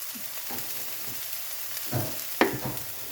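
Onions frying in a pan, a steady broadband sizzle with a few louder bursts from stirring or tossing, close and alone without talk.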